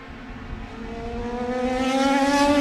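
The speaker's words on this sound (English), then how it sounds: "that car accelerates so hard out of turn 5" A race car at Sebring accelerating hard out of turn 5, its engine note rising steadily in pitch and growing louder as it pulls away, a strong harmonic drone without talk.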